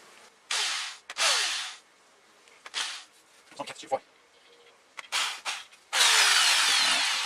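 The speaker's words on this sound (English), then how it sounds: "Just drilling those holes out bigger." A power drill whirs in several short, loud bursts with pauses between, the bit grinding as it enlarges holes for a Toyota Tarago/Previa HVAC vent repair, ending in a longer sustained run.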